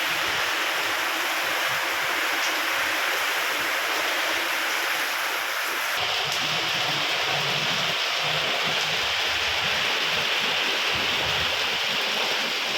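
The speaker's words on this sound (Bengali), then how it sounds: "বাইরে হচ্ছে জোরে জোরে বৃষ্টি" Heavy rain falls outside a house at night as a constant, dense broadband hiss, even and unbroken throughout, with no one speaking.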